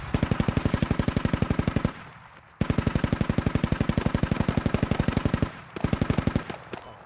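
Rapid automatic gunfire in the military shooter Squad, loud sustained bursts of evenly spaced shots broken by brief pauses, with no talking.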